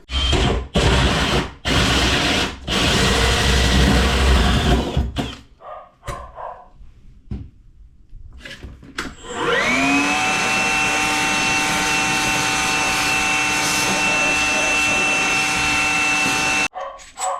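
A power drill whines at a steady high pitch for several seconds, close and loud, pilot drilling through a kitchen worktop for a sink tap, after some earlier knocking and rubbing noises.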